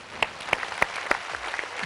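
A studio audience at a Telugu television game show claps in a short, sparse burst, with a few distinct claps standing out over a soft background.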